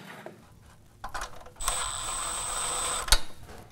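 A ratchet tightens bolts on the pull-start of a Honda GX engine: scattered clicks first, then a sustained run of close, rapid ratcheting ending in a sharp metallic clack.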